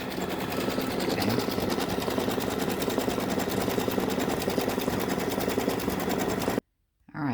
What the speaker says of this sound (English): I wanted to show you the total stitch out time is 18 minutes and we're halfway finished.